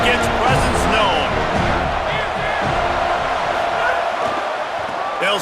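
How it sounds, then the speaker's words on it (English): Stadium crowd roaring at a college football game between Georgia and Florida State in EA Sports College Football, a dense, loud, sustained din of fans with a commentator speaking over it. "This crowd ready to make its presence known."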